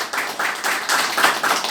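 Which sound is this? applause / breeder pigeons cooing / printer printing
applause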